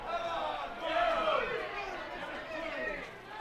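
Home crowd at a baseball elimination game, Roseburg Dr. Stewart's against Hillsboro Barbers, reacting with a swell of murmuring and calls after a disputed strike call on the outside corner, rising and falling with no clear words.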